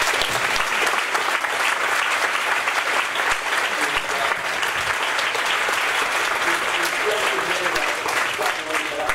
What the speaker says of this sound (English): Would you join me in giving them all a round of applause?